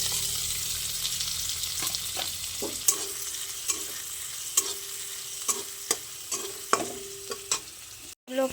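Garlic, onion, capsicum and chilli fry in a pan under a steady sizzle while a spatula stirs and scrapes in regular knocks about every second, close and fairly loud, with no speech.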